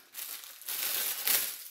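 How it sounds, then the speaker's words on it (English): Plastic packaging bags from an online shopping haul crinkle and rustle up close in two short bursts, with no voices heard. "Sorry about the crinkling."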